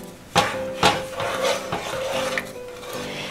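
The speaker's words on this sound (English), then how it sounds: "And start stirring." A wooden spoon stirring a pot, a few scraping knocks against the pot and a softer rubbing sound between them, close and alone.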